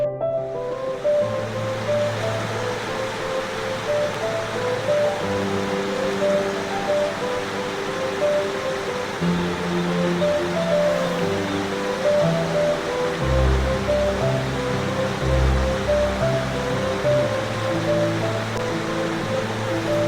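Waterfall water rushes over rocks in a constant, full roar with deep low rumble, steady and close for the whole stretch, alone without voices.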